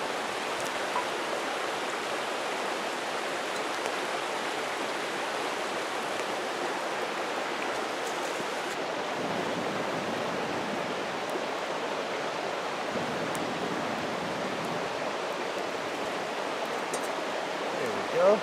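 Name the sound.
river running water flowing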